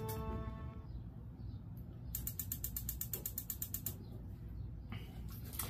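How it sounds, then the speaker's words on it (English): A rapid, steady series of sharp mechanical clicks from a homemade jet engine combustor's spark igniter snaps along over a low background hum, pausing and then resuming briefly near the end. "That's my sparker."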